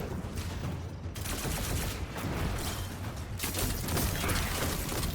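The Anarchy weapon is fired repeatedly at a boss in the shooter game Destiny, making a dense string of sharp bursts and crackling blasts over several seconds, loud and close with no voices.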